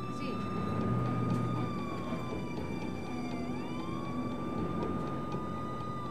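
A wailing ambulance siren rising and falling over the steady rumble of a moving vehicle, heard from inside or close by, with a voice talking over it.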